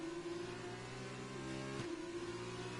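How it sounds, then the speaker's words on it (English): F1 race car engine in a racing video game at the Montreal circuit, holding a steady high whining drone on throttle with a brief dip partway through before climbing again; continuous and close, no talk. "Both getting a little heavy on the throttle."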